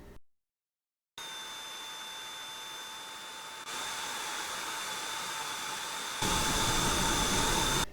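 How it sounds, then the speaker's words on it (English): A steady whirring drone of a processed vacuum cleaner mixed with a small spinning toy, with a high tonal whine, starting after a short silence and stepping up in loudness twice. "with the vacuum cleaner, you're also hearing the sound of this little spinning toy"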